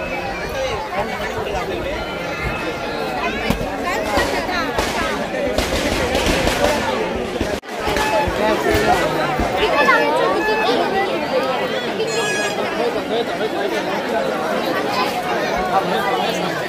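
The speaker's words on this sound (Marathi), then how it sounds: "गर्दी बघा मित्रांनो किती आहे. खूप गर्दी आहे." A large festival crowd at a village temple in Konkan, many voices chattering densely and loudly all the way through, with occasional sharp pops and bangs rising above the crowd.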